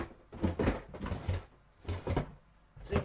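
Drawers in a kit-building workshop slide and bump as they are pulled open and shut during a search, several separate hollow knocks and scrapes at close range.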